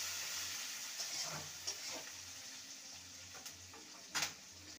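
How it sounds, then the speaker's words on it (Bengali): Chopped onion frying in a pan until lightly browned, a steady close sizzle broken by occasional stirring scrapes and clinks, with no talk. "পেঁয়াজটাকে হালকা ব্রাউন করে নেব।"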